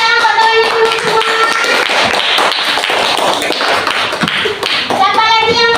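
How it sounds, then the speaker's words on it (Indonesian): Primary school children in a classroom clap for a classmate, a dense, steady patter of many hands lasting throughout, with young voices and tonal chanting mixed in. "tepuk tangan buat teman dulu semua"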